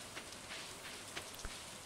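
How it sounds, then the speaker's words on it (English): Rain falls steadily in Stardew Valley, a soft, even hiss of drops on surfaces with a couple of slightly louder patters, quiet and without voices. "Since it is raining, we may as well go to the aquarium today."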